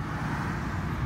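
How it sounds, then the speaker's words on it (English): Steady low rumble of early morning road traffic passing nearby, a continuous wash of engine and tire noise. "I apologize for the road noise, but it is early morning traffic out here"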